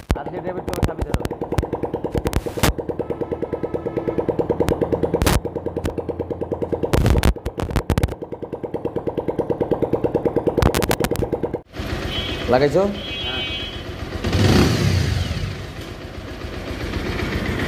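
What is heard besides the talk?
Pulsar motorcycle engine running and revving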